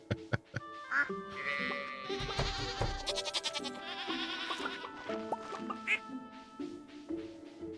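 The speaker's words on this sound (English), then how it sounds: "Your symphony of sheep is gorgeous." A single sheep in the farming game Stardew Valley bleats over and over, its wavering calls repeating in quick succession and layered with other tonal game sounds throughout.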